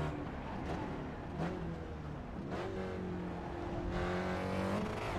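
Race car engine in iRacing at Donington, likely a Mazda MX-5 or Skip Barber, revving steadily as it accelerates and shifts up through the gears, loud and continuous with rising engine tones and no talk.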